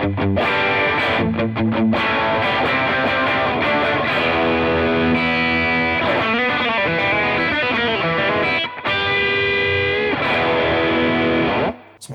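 VOLA OZ superstrat electric guitar played through a high-gain distorted tone with the single coil pickup selected, loud sustained chords and riffs with brief muted gaps, continuous and close with no talking.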